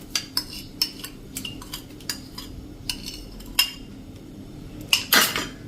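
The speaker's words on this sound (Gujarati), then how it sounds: "તો એને આપણે આ દૂધમાં જ નાખી દેશું." Soaked poha being tipped into milk in a pot, heard as a run of sharp metallic clinks and scrapes of a spoon against the vessel at irregular intervals, ending in a louder clatter.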